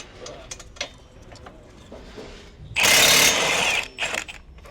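An impact wrench loosening a 22 mm front brake caliper bolt on an Infiniti G35/G37: after quiet handling noises, one loud, close, rattling burst lasting about a second, followed by brief clatter.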